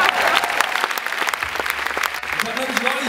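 Concert audience applause for a guitarist at a Pfingstgala musical show, a continuous burst of many hands clapping, with a voice starting to speak near the end.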